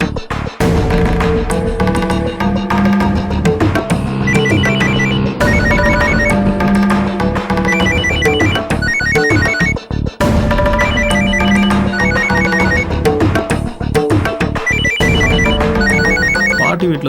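A telephone rings in a home in a Tamil television serial, a loud electronic ringtone melody that repeats steadily, with only brief breaks between the rings.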